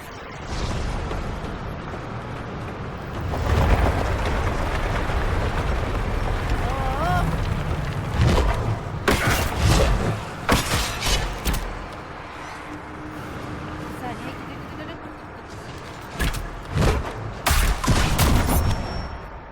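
Explosions in the video game Dragon Age Inquisition: several heavy booming blasts and crackling bursts in sequence, loud, with game music and a voice talking in between.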